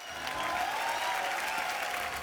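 A studio audience at a comedy show applauds steadily, a dense wash of clapping held at even volume throughout, heard slightly distant with no voices over it.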